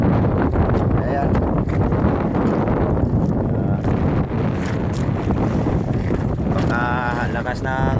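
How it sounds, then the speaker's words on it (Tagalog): Strong wind buffets the microphone at sea aboard a fishing boat off Lucky Beach, a heavy continuous roar with rushing water beneath, and a voice speaking briefly over it. "Lakas ng hangin mga ka-YouTube."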